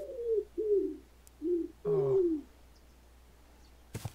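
Pigeons in a Minecraft village coo four times in slow, evenly spaced soft calls, clear and alone against a quiet game background, ending with a faint click.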